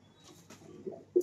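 A pair of domestic pigeons kept at home gives soft, low cooing, faint and close, ending in one louder, fuller coo.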